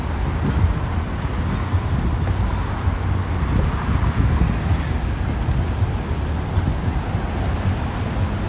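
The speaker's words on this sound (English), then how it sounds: "The wind is slightly picking up." Wind gusting in rainy New York City on the way from Brooklyn to Manhattan over the Brooklyn Bridge, a steady broadband rush of moderate loudness with low rumble beneath and no voices.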